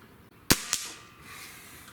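A Diana RWS 34P Pro Compact air rifle fires and the pellet strikes a target, giving a sharp crack followed a quarter second later by a softer impact knock, alone against a quiet outdoor background.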